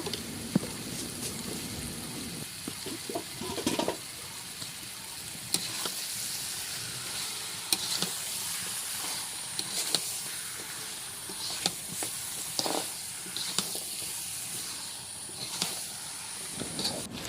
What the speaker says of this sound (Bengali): এখন আমি মাংসগুলোকে ভালো করে কষিয়ে নিচ্ছি